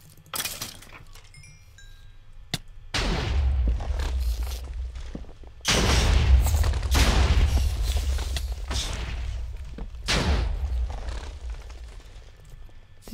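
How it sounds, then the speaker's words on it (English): A charged creeper blowing up in the Minecraft video game, heard as several loud, rumbling booms in quick succession that swell and fade. Clinking and scattered crackle sit between the blasts, with no talk over them. "Thank you for exploding, creeper."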